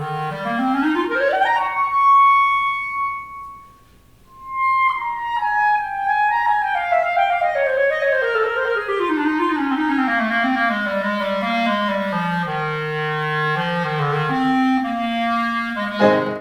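Solo clarinet plays a recital passage: a rising run, a held high note, then a long, flowing descending line of connected notes, close and clear with no talking.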